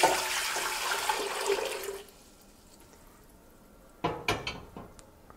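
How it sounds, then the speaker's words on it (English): Water gushes into a pot for nectarine wine for about two seconds, then stops, followed by quiet and a few sharp clanks of the pot and utensils near the end. "let's get these into the pot. Let's go ahead and start this process by adding in some of our water."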